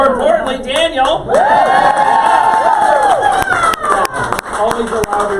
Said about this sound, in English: Always a louder cheer for Daniel.